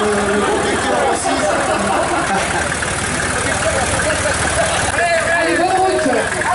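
A 1967 tractor idles loudly and steadily in a fair parade, its low chugging rumble continuous beneath nearby voices talking over it.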